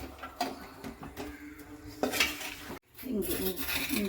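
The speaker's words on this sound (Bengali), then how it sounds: "লঙ্কা গুঁড়িটা তাড়াতাড়ি এটার মধ্যে মিশিয়ে দিতে হবে" A spoon scrapes and knocks against a pan as chili powder is stirred into mango pickle over a low flame, close repeated clatter with a gentle sizzle and a brief pause midway.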